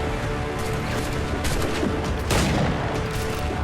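Pistol shots in Assassin's Creed IV, fired aboard a rocking ship, come as a dense, loud burst of overlapping bangs over a constant roar of game background noise, with a heavier blast near the end.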